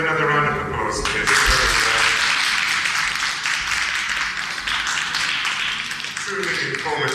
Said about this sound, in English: Could we have another round of applause, please?